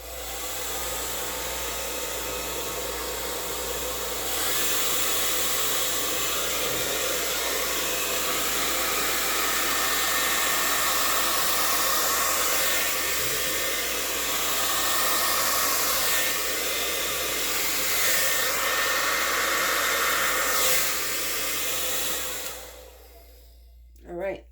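A hair dryer blows with a steady, loud whoosh for over twenty seconds before clicking off, followed by a brief quiet moment.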